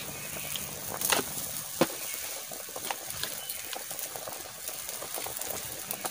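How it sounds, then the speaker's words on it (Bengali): Water goes into a hot cooking pan while fish curry is prepared, producing a close, continuous hiss and bubbling with small sharp pops and splashes. "আমি জল দিয়ে দিচ্ছি।"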